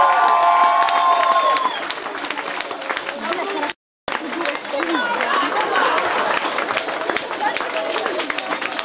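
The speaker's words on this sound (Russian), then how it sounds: "под ваши громогласные аплодисменты" A crowd at a lezginka dance event claps and cheers loudly, with shouting and chatter mixed in; the noise dips after a couple of seconds, cuts out briefly, then swells again.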